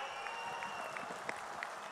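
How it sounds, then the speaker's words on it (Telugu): Applause rises from the audience at a public event where Chief Minister Chandrababu announces free bus travel for women in Andhra Pradesh. It comes as a faint, steady patter of clapping crowd hands, with scattered sharper claps poking through. "గట్టిగా చప్పట్లు కొట్టి హర్షాన్ని ఆమోదాన్ని"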